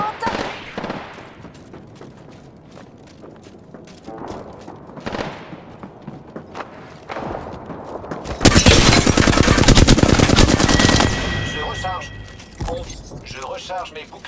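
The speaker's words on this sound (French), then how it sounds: "Je presse la détente." Gunfire from the video game Apex Legends: scattered shots early, then a loud sustained burst of automatic fire in the middle, with spoken in-game voice lines and other talk around it.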